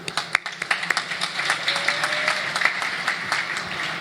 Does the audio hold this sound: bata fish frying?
no